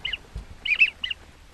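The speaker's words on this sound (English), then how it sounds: "That's big duck." Wild ducks calling while out hunting: a few short, faint nasal quacks from a distance, in brief bursts over a quiet outdoor background.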